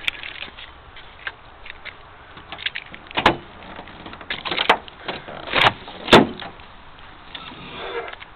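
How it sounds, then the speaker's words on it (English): Trunk of a 1997 Volvo 850R opening, with a few sharp latch clunks and thumps standing out from low handling noise over several seconds, close by and without talk. "Open up the trunk."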